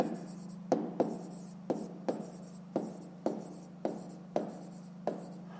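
Numbers being handwritten while working a fifth-grade math exercise: about ten distinct pen taps and short strokes in a steady, unhurried rhythm, close and quiet over a low background hum.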